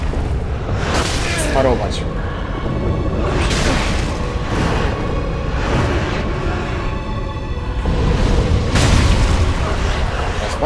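Boss explosion attack in Dark Souls 3: heavy booming blasts and rumbling bursts recur through the stretch, loud and close, with someone talking over the battle noise.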